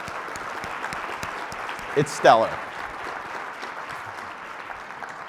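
Applause from a telehealth policy conference audience of nearly 500 for the organizing team, a dense, continuous patter of many hands throughout, with a brief spoken remark and a voice cutting in over it.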